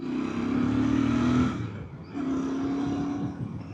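A 2025 Royal Enfield Bear 650 motorcycle with its stock exhaust gives a deep, throaty engine rumble in two sustained swells separated by a brief dip, close and fairly loud.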